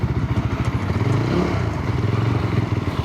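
A Yezdi Scrambler motorcycle with the new Katar engine thumps at low revs, its exhaust pulsing in a steady, close, loud beat with a slight rise in revs midway and no speech.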